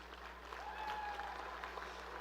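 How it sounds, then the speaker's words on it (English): An audience at the Oklahoma Youth Expo livestock show gives the young exhibitors a round of applause, a faint, steady patter of clapping heard from a distance. "Let's give these exhibitors a big round of applause."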